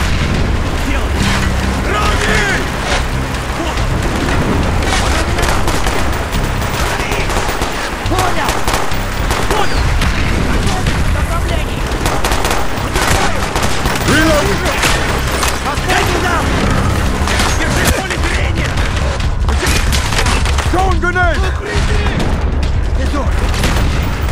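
Dense, continuous gunfire and heavy booming blasts, including a grenade explosion, fill a Call of Duty: Black Ops battle, loud and unbroken, with shouted voices buried in the din.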